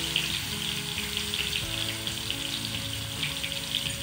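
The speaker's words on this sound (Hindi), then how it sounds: "अभी गर्म हो चुका है तो पहले मैंने कूट के लिया हुआ जिंजर और गार्लिक डाल दी थी।" Ginger and garlic frying in hot oil in a kadai, a steady broadband sizzle and crackle that holds close and even throughout with no pauses.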